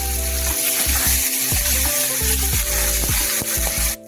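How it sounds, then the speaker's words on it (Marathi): Onion sautéing in hot oil with popped mustard seeds and cumin for a dal and eggplant curry, a steady close sizzle and frying crackle with repeated scraping stirs of a spoon in the pan, no talking. "त्याला थोडा कांदा टाकून घेऊ. तो थोडासा आपण परतून घेऊ"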